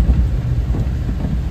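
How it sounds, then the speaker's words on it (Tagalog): Heavy rain pours steadily in a dense, continuous low rumble with no breaks, loud and close throughout, with no voices over it. "Grabe ang lakas ng ulan."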